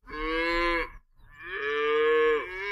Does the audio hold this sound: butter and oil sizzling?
no